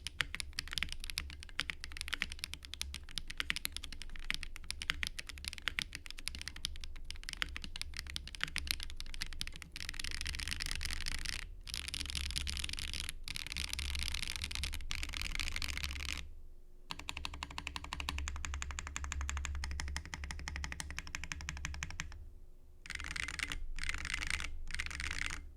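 Mechanical keyboard with HMX milky white switches on a 1.2 mm flex-cut PCB with Swag Keys X caps, typed on in a dense, continuous patter of close clicky keystrokes with a few brief pauses and no talking.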